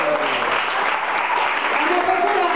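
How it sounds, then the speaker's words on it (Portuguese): Continuous applause from a church congregation, steady and dense throughout, with voices mixed underneath. "Aplauda Jesus."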